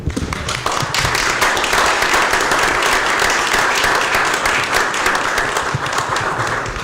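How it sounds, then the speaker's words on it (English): An audience at a Texas county commissioners' court session claps hands together, a dense continuous round of applause lasting several seconds at close range, fairly loud and steady with little talk over it. "Everybody clap your hands."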